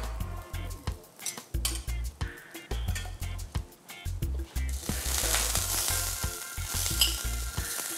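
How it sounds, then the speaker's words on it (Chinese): A black pepper pork chop sizzles loudly on a hot iron griddle at a teppanyaki steak restaurant, with clattering metal utensils and plates in rhythmic bursts before the frying hiss swells and fills the last few seconds. "哇哇，滋滋的作响哦。黑胡椒猪排上菜"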